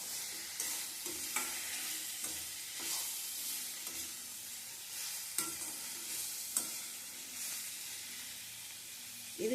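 Snake gourd sautéing in oil in a pan gives a close, even sizzle broken by regular scraping and tapping strokes of a spatula, steady throughout with no talking.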